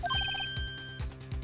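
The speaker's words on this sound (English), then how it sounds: "I heard a phone ring just now." Phone ringtone from the Ace Attorney video game, a quick, bright electronic melody of repeated beeping notes that ends in a sustained tone, heard alone over a soft rhythmic background pulse.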